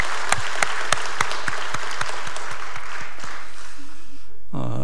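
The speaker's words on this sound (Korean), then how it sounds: "우리 박수하겠습니다" A church congregation breaks into applause, with distinct claps punching through a steady wash of clapping that stops abruptly, followed by a voice speaking.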